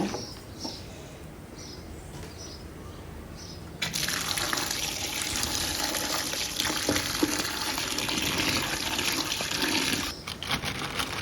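Cut flat beans, potatoes and tomatoes are washed under running water: quiet handling at first, then a loud tap stream gushes in and splashes steadily until near the end.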